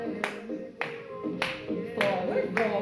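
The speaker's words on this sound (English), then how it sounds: "We're gonna walk forward and walk back while clapping." Hand claps during a Zumba Gold fitness class walking forward and back, five sharp evenly spaced claps over upbeat background music.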